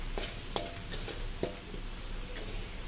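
Coconut milk curry with chicken being stir-fried over high heat, a constant bubbling sizzle broken by a few sharp ladle taps and scrapes against the pan at irregular intervals.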